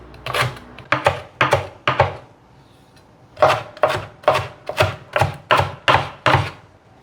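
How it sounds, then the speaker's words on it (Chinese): A knife chops celery on a cutting board, two fast bursts of sharp, close, evenly spaced strikes separated by a brief pause, with no talking. "把芹菜的根部切掉，把芹菜切碎。"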